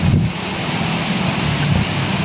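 Heavy rain pours down outdoors, a dense, continuous wash of patter with a low rumbling undertone, loud and unbroken throughout, with no voices.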